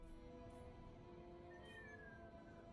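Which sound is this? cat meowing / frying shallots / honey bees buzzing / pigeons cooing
cat meowing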